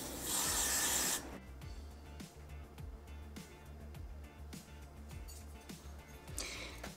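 A short burst of aerosol wig glue spray hisses loudly for about a second during a lace front wig install, followed by quiet rubbing and handling noises.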